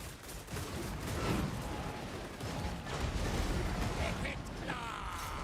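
Massed gunfire from Total War: Warhammer 2 rattles in dense, continuous volleys, with crackling shots overlapping loudly throughout and no one speaking.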